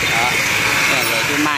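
A 670W angle grinder in Vietnam runs off an independent solar-charged battery setup fitted to a car, giving a steady, loud motor whine throughout with voices mixed in.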